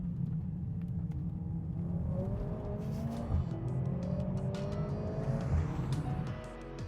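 Lotus Emira sports car powered by the Mercedes-AMG A45 turbocharged four-cylinder engine, heard driving with a steady loud engine drone and rising revs through gear changes, close and continuous with no talk.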